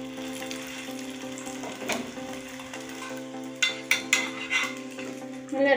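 Bun parotta frying in plenty of oil on a dosa griddle, a steady close sizzle with soft clinks and scrapes of a utensil, a few louder bumps near the end.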